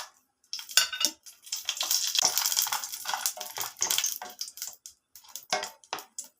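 Dried red chillies dropped into hot oil in a pan for sambar, giving a close, loud crackling sizzle with scraping and clinking bursts throughout.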